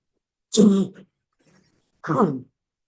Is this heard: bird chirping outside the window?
no